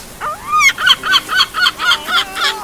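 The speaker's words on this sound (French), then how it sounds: "Mais c'est pas une mouette ça, c'est un goéland." Herring gull calling loud and close, a rising squeal followed by a rapid series of harsh, rhythmic laughing cries, heard alone.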